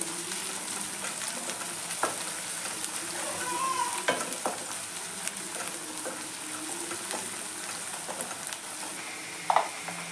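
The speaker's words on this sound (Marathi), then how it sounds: "बारीक चिरलेली मिरची आणि कढीपत्ता। हे सुद्धा आपण चांगले परतून घ्यायचे आहे।" Green chili and curry leaves sauté in hot oil for a french bean stir-fry, giving a steady, close sizzle with intermittent spatula scrapes and taps throughout.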